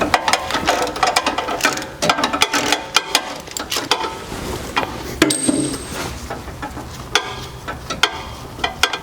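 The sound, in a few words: ratchet and socket loosening oil pressure sensor on Dodge Durango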